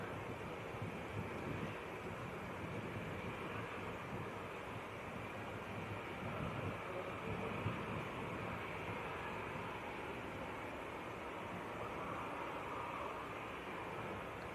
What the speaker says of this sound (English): This is EasyJet to Milan, taking it full length.